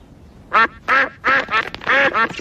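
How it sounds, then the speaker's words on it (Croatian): Cartoon ducks at a frozen pond in a Peppa Pig episode quack in a rapid series of about six loud, nasal calls in short bursts, close and clear with no talk. "Peppa i George vole hraniti patkice."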